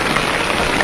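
Heavy rain pours down in a dense, continuous loud hiss, close and steady throughout with no voices.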